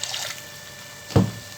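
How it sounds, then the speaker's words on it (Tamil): Water poured from a rinsed mixer jar into tomato masala in a pan for a brinjal curry, a short splashing gush near the end of an otherwise quiet stretch. "இப்போ மிக்ஸி கழுவி வச்சுருக்க இந்த தண்ணியை வந்து நம்ம கொஞ்சம் ஊற்றிக்கலாம்"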